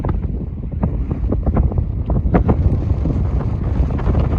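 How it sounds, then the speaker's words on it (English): Wind gusts across an exposed rocky trail among needle rock formations on the Chesler Park Loop in Canyonlands, Utah, buffeting the microphone in loud, continuous rumbling blasts with no talking. "it's getting a little breezy up here"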